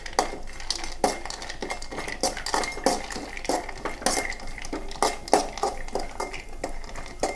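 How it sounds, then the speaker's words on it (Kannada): Cashews and raisins roasting in ghee in a pan are stirred with a metal spoon, giving rapid, regular scraping and clinking strokes against the pan at close range, with no talking. "ಒಂದು ಬಾಣಲೆಯನ್ನು ನಾವು ಒಲೆ ಮೇಲಿಟ್ಟು ಸ್ವಲ್ಪ ತುಪ್ಪವನ್ನು ಅದರ ಮೇಲೆ ಸುರಿದ ನಂತರ ಗೇರು ಬೀಜ ಮತ್ತು ದ್ರಾಕ್ಷಿಯನ್ನು ಒಳ್ಳೆ ಮಾಡಿ ಹುರಿಬೇಕು"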